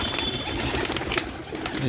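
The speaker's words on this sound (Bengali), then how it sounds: "এখানে যে পায়রাগুলো দেখছো সব কটা এটা ডিমে বসা আছে" Pigeons at a Nabadwip pigeon farm, many of them sitting on eggs, coo amid a busy, continuous wash of flock noise that stays loud and close throughout.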